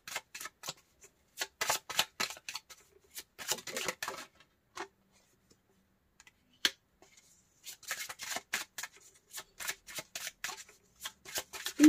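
Tarot cards shuffled by hand in quick crisp bursts of riffling flicks, with a short quiet pause midway before more rapid close shuffling.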